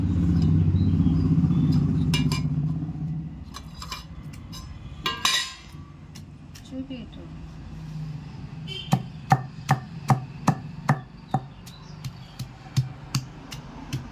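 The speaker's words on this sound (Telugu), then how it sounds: "మొత్తం కలిపి దంచుకుందాం ఒకసారి" Chutney with coriander and onion gets pounded in a stone mortar, starting with a rumbling grind, then a run of sharp, evenly spaced stone-on-stone thuds close by, with no voices.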